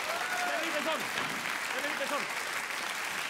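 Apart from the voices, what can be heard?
applause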